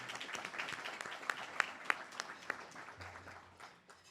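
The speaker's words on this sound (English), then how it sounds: "So please give him a round of applause." Light, sparse applause from a modest audience at an internal medicine graduation certificate presentation, with individual claps standing out before tapering off.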